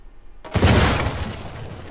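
In the video game Uncharted 4, an explosion blows a door open: a sudden loud blast bursts out after a brief quiet moment, then a rumbling roar slowly decays.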